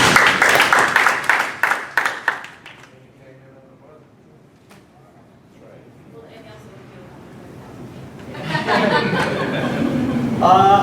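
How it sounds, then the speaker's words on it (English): People at a D228 school board committee meeting break into lively applause mixed with chuckles, fading to quiet murmuring, then swell again into louder clapping and chatter. "You should give yourselves a round of applause for that."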